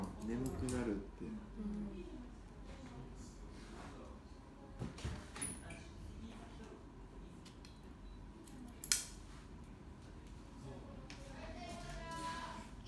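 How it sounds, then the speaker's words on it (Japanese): A hairdresser's scissors snip hair during a short haircut in a salon, with faint crisp clicks scattered through the clip. Soft conversation runs underneath. "このハサミの音がいいとか。"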